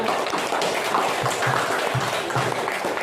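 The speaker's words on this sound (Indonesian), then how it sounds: "kita tepuk tangan untuk kelompok 5 dulu" A classroom or seminar audience applauds for group 5 with a loud, steady wash of clapping, and some individual claps stand out close by.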